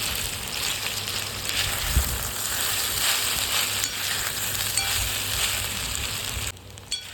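Sabudana khichdi with crushed peanuts is stirred in a hot pan, a steady sizzle with spoon scrapes and a low knock, dropping quieter near the end.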